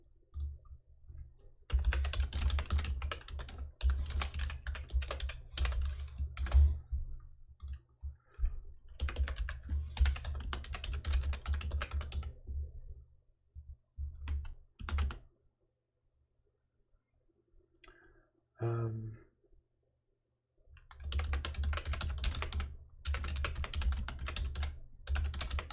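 Bursts of fast typing on a computer keyboard during a Rust coding session, close and steady with short pauses and a quiet gap before the clatter resumes; no talking.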